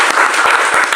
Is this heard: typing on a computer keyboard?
no